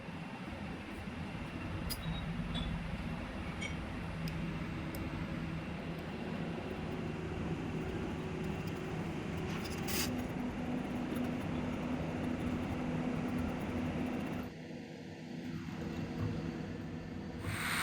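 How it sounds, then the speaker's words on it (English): An angle grinder cuts a knife contour out of steel rebar with a steady, loud, unbroken roaring whine that holds for most of the stretch, dips briefly near the end, then resumes. "Angle grinder for the contour."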